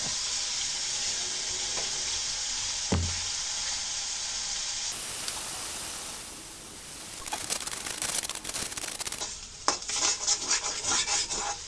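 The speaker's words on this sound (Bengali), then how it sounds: "এতে একটু পানি মিশিয়ে দেবো পানি মিশে মশলার ভিতরে দিয়ে কষিয়ে নেব" Loud, steady sizzling of spices sautéing in a hot pan as water is added for an egg and potato curry, with a sudden hiss partway through and scraping stirring strokes clattering toward the end.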